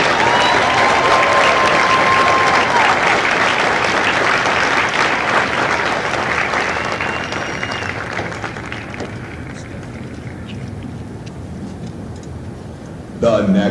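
An audience at a Marine Corps recruit graduation ceremony in San Diego applauds loudly and steadily, the clapping fading slightly toward the end before a brief louder sound.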